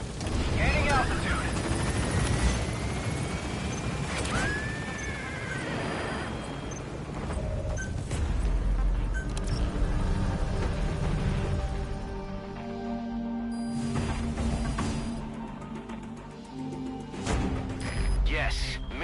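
A helicopter in the Metal Gear Solid V video game takes off and climbs, its rotor and engine drone loud and continuous, with game voices speaking over it and a whine sweeping early on.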